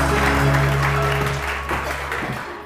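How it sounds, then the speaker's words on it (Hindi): A studio audience on a television morning show claps steadily throughout, moderately loud applause over a low, constant background hum. "बहुत सारी तालियां"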